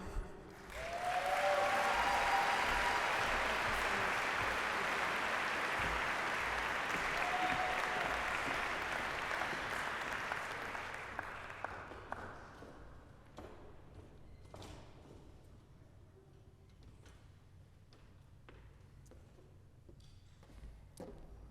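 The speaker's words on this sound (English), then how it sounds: "how about another round of applause for Tanika" At a Dr. Martin Luther King Jr. celebration, a crowd applauds award recipient Tanika, a full, sustained ovation that thins after about twelve seconds into a few scattered claps and thumps.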